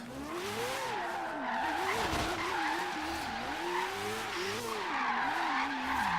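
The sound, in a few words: Mad Mike Mazda RX-7 drifting with tire skids, from a video game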